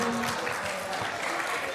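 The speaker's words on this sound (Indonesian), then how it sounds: "Oke, tepuk tangan." A classroom or workshop group claps together, a short burst of dense, steady hand-clapping with a low murmur of voices underneath.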